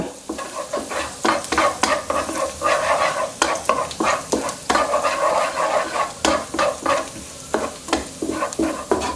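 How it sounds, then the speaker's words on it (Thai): One tablespoon of minced garlic stir-fries in about two tablespoons of vegetable oil for a pumpkin and minced pork dish, with a loud, close sizzle under a steady rhythm of spatula scrapes and stirs against the pan. "ตามด้วยกระเทียมสับครับ 1 ช้อนโต๊ะ ผัดให้มีกลิ่นหอมเลยนะ"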